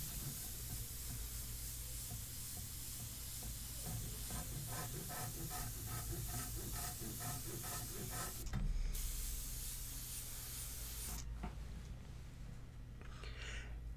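An airbrush sprays India ink onto paper for a portrait in a continuous soft hiss, with faint rhythmic mechanical pulsing in the background and a short bump partway through.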